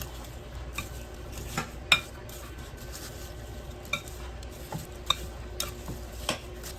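Honey being stirred into apple crisp ingredients in a bowl, with soft scraping and intermittent clinks of a spoon against the dish, close and fairly quiet with no talk.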